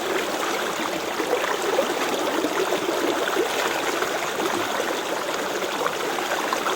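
Clean mountain spring water pours steadily at a forest waterfall, a constant close rush and splash with no pauses and no voices.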